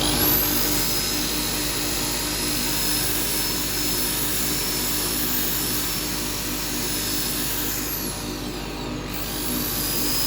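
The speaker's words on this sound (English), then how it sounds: "My super duper sander." Power sander working a wet wood cowboy hat turned on a lathe, a steady close-up motorized whir and hiss that runs without a break throughout.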